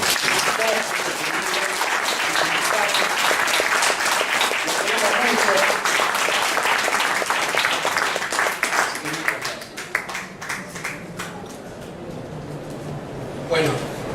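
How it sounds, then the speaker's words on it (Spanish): An audience at a book presentation breaks into sustained, loud applause that fills the room, then thins out and fades near the end as a voice begins speaking. "Pido un aplauso para él"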